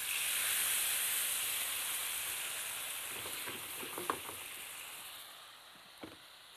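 Water hits sautéed lamb ribs in a hot pot and sets off loud, steady sizzling and steam hiss. The noise slowly fades, with a few clinks and stirring knocks near the end.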